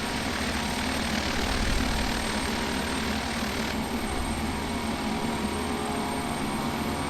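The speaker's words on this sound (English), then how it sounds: "So I'm going to take off now." A Beechcraft King Air 350 in the FSX flight simulator game drones steadily at high power for takeoff, a loud continuous engine roar with no break.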